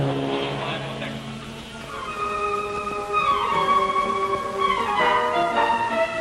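Cars driving away after a 1971 British motor race, a close engine revving and climbing in pitch as they pull off, with tire noise mixed in.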